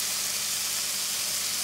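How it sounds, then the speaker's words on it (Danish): Boiling and sizzling on a Ztove cooker, a steady broad hiss filling the short moment without pauses or talk. "Det starter med at koge."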